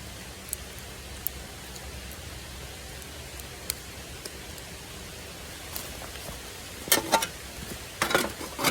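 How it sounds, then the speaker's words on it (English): Steady rain falls outdoors, a soft continuous hiss with scattered drop ticks, joined near the end by a few louder, closer rustling bursts. "It's raining."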